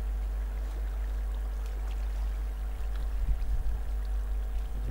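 Water flows from a spring in a video game cave, a steady low rushing hum with faint trickling that grows slightly livelier toward the end, heard alone.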